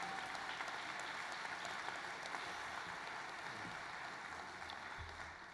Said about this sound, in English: That was a pause for applause